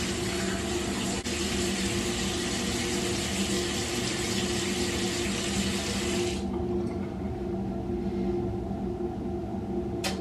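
Water running from a sink tap during face washing, a steady loud rush that cuts off partway through, leaving faint room noise and a small knock.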